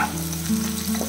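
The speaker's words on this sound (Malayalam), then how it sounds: "ഈ ഒരു കപ്പിന് അരക്കപ്പ് ചെറിയ ഉള്ളി അരിഞ്ഞത് ഇട്ട് കൊടുക്കുകയാണ് കേട്ടോ." Chopped small shallots sizzling in hot oil for a South Indian chicken perattu, a close, continuous crackling fry with no voices.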